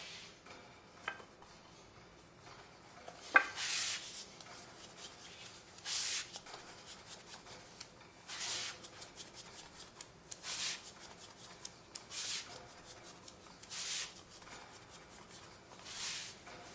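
Handmade 100% buckwheat soba dough being rolled out on a wooden board during the final rolling stage, giving soft rhythmic rubbing and swishing strokes that recur every couple of seconds, close and fairly quiet, with no talking.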